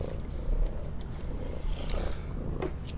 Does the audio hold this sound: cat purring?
yes